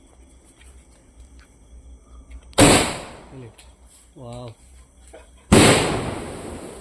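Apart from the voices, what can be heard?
Diwali firecrackers bursting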